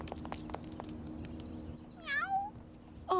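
A cat meows several times, one drawn-out, wavering meow in the middle and another short one at the end, close and clear over a faint background hum, with some soft clicks and rustles early on.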